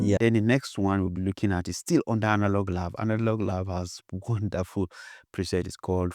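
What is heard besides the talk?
No everyday noises stand out.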